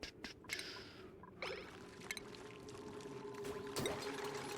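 Water pours and gurgles quietly in a video game, a soft continuous flow with a few louder splashy surges, heard alone without talk.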